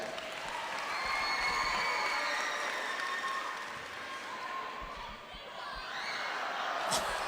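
A crowd at a high school basketball game gives a sustained wash of applause and cheering after a girl's half-court shot attempt, steady throughout with a few high whoops near the end.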